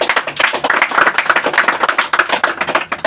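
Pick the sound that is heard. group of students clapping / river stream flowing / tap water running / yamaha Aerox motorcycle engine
group of students clapping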